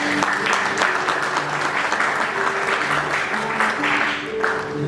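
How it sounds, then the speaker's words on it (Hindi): Guests clapping together at a first birthday party, a steady sustained round of applause lasting several seconds, close and loud, with some voices mixed in. "तालियां हो जाए।"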